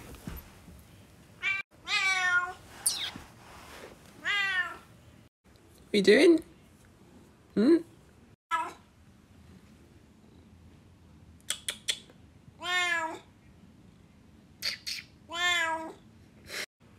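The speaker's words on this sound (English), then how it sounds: "This right here is my cat" A pet cat meows repeatedly in drawn-out, rising calls, close and clear, with a person talking in between.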